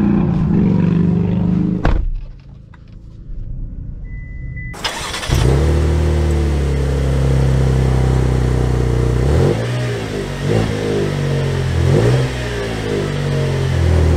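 New Chevy Traverse LT Leather SUV engine while driving, starting from a lull and then a loud, steady engine drone that rises and falls through several gear shifts and accelerations.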